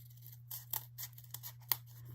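Scissors cut through glitter foam glued onto corrugated cardboard, making about half a dozen close snips and crunchy cuts in uneven rhythm over a low steady hum, with no speech.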